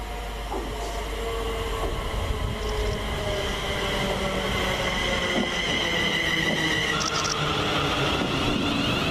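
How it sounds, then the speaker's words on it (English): A passenger train to London Euston rumbles in close by at Cheddington station, with a low steady drone, rattling wheels and metallic squeals rising over the passing carriages. "Oh look, here's my train, the 1304 to Euston."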